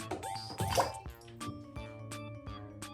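Toy dinosaurs, a Giganotosaurus and a Baryonyx, drop into water with a few splashes and drips, then scattered small wet clicks and knocks, close and fairly quiet.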